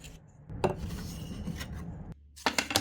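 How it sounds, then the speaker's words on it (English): A hand saw works through a wood plank held in a miter box, a steady rasping stroke running for about a second and a half, then a short pause before sawing resumes, close and moderately loud. "Then I'm trimming 2 pieces to that size using my miter box and saw."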